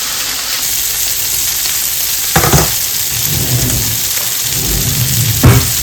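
Fresh garlic and olives frying in a pan give a loud, steady, close sizzle and crackle, broken by a couple of louder bursts as the pan is stirred or touched.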